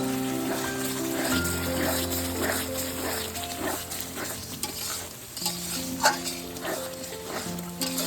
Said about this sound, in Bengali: জিরে গুঁড়ো। ভালো করে একটু নাড়িয়ে দেই।